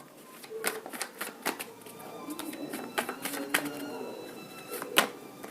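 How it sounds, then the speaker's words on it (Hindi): Tarot cards are shuffled by hand in a quiet room, a quick series of crisp papery riffles and slaps at uneven intervals, close and moderately soft, with no talking. "let me shuffle for one more time."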